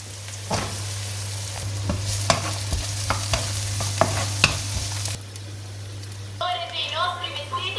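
Onion and ginger for chicken tinola cooking in a pan, a spoon clattering and scraping in irregular strokes over a soft sizzle and a steady low hum, with a voice talking near the end.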